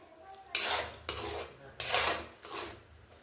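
Semolina upma stirred continuously in a pot over low gas, four distinct bursts of metal spoon scraping against the pot separated by short pauses, fairly close.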